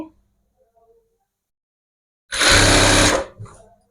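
A sewing machine stitches folded cloth in one loud, close burst of about a second of steady whirring, then falls quiet, after a mostly silent stretch.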